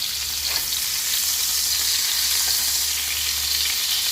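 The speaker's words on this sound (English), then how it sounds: "I'm going to put some butter in there. That's going to sizzle away." Burgers sizzle steadily in butter in a hot pan, a constant crackling hiss with no voices, close and fairly loud throughout.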